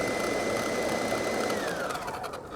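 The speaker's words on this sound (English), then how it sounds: "Let the food processor do the work." A food processor blitzing a clove of garlic for tandoori chicken, a loud, steady motor whirr with a rattling blade that winds down near the end, with no speech.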